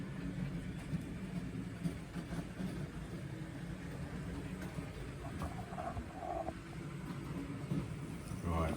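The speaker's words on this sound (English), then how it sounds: "I'm just going to send it on its first lap around my track" A model train runs its first lap around a home layout, rolling over crossovers and points with a steady, continuous low rumble and faint clicking that holds from start to finish.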